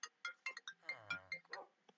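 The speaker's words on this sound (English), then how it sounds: "Phone call." A phone rings with an incoming call, a bright electronic ringtone of quick chirping tones in a bouncy pattern, clear and close with no talk.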